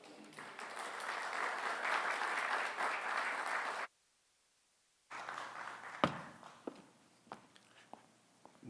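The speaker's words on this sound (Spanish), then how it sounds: "Recibamos al arquitecto Óscar Eduardo Martínez Garza con un fuerte aplauso." Conference audience applauding an architect's introduction, dense clapping for about four seconds, then silence, then scattered claps and small taps.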